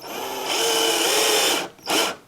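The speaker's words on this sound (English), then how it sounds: "Right, let's get a nice fresh drill." A power drill drilling out a lock on a Royal Enfield motorcycle whines steadily at high speed for over a second, cuts out briefly, then spins up again in a short burst.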